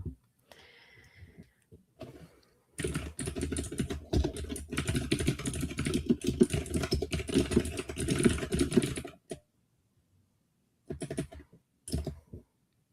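Rapid clacky mechanical keyboard typing, close and continuous for several seconds, then a pause and a couple of short bursts of keystrokes.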